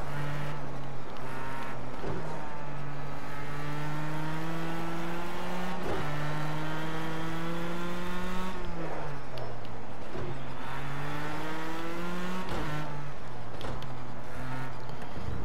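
A race car engine in a racing video game revs through repeated gear changes, each rising whine cut by a quick shift before climbing again, loud and continuous throughout.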